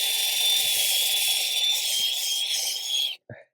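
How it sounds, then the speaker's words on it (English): A drill attachment scrapes the floor of a dirty grill's emptied burn pot, giving a steady, loud, high-pitched whirring grind for about three seconds before it cuts off abruptly, followed by a brief clatter. "I can now take this drill attachment,"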